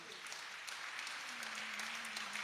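Faint applause from a gathering at a religious discourse, a soft continuous patter of clapping heard at a distance with a low hum running underneath.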